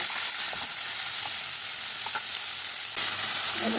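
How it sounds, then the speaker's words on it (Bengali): Prawns fry in hot mustard oil, a loud, continuous crackling sizzle with occasional sharper pops and soft scraping stirs throughout. "এখন চিংড়ি মাছগুলো ভেজে নেব"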